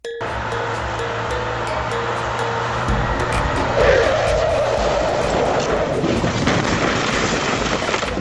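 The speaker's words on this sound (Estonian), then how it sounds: "Peale filmi mõtlesime Vinniga, et lähme paneme drifti ja testime me uut autot." A car drifts with its engine roaring loudly and steadily, and the tire noise swells and grows harsher partway through as the tires skid.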